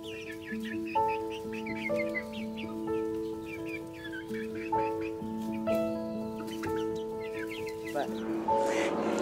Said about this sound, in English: I got all my hens to come in